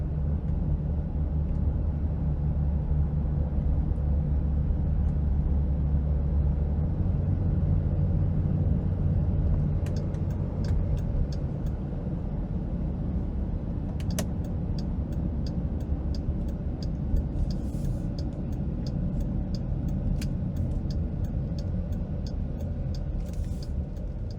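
A Dodge Durango V6 hums steadily from inside the cabin while driving, a continuous low rumble of engine and road noise with faint ticking clicks in the background and no voices.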